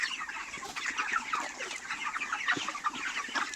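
Broiler chickens cluck and chatter continuously on a poultry farm, a dense, busy flock murmur with many overlapping birds at moderate distance and no talking.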